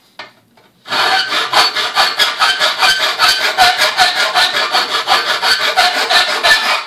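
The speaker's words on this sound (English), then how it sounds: "do just a hair, a little bit of sanding on the side there, because it does kind of scrape" Sandpaper rubs back and forth against the side edge of a cut-out in an R2-D2 dome, a steady run of rhythmic scraping strokes close up and loud, starting after a brief quiet moment.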